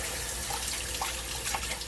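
Water runs steadily from a tap as a crocheted piece is rinsed in a sink, a constant close splashing hiss with brief gurgles and no voices.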